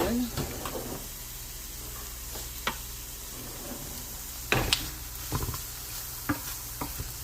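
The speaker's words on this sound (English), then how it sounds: "I'm gonna fry my onions" Onions fry in a pan with a soft sizzle under sharp clacks of a spoon stirring against the pan, scattered taps over a low steady hiss, close by, with someone speaking.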